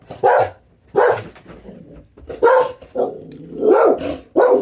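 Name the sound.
dog barking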